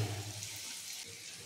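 Water used to rinse spices is poured into a pan of chicken being cooked for chicken chaap, a soft, steady splashing and hissing pour, close and quiet.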